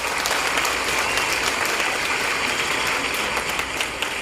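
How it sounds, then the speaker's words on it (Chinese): An audience applauding at the final of a national Hakka stir-fry cooking championship, a loud, dense and sustained round of clapping that keeps an even level throughout without talk. "再给他这里掌声鼓励一下"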